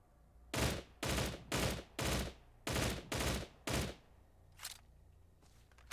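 An assault rifle in a video game fires eight evenly spaced bursts of three rounds, loud and close, followed by a couple of fainter, more distant shots.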